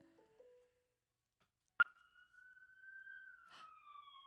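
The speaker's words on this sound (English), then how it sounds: "that siren scared me for a minute" A single electronic siren tone rises sharply and then holds a steady wail, fairly faint against an otherwise quiet background.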